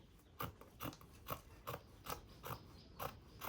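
Scissors snip through fabric being cut for a gown, about nine crisp, evenly spaced metallic cuts in a steady rhythm, close and quiet with no talking.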